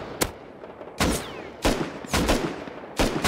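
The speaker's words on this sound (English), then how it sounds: "They're shooting at us." Gunfire from a firefight in the survival game Rust: sharp, loud shots come in bursts about every half second to second, some with quick follow-up cracks, close and without talk.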